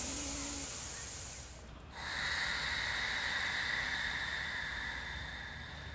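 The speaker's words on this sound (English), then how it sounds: "So we're going to practice Ujjayi." Ujjayi breathing: a soft, steady, hissy rush of breath drawn through a constricted throat, heard up close with a brief dip midway before the airy sound swells again; no speech.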